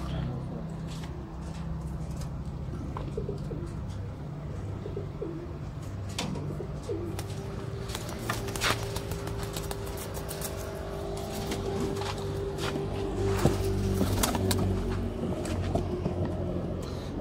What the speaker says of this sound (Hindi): कलसीरा कबूतर काली पूछ वाला जी माशाल्लाह।